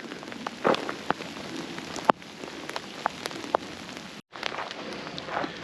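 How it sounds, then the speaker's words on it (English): Steady spring rain pattering on a surface in the Sunol Wilderness, with a few sharper drops and clicks scattered through and a brief dropout near the end. "At least it's not totally cold rain."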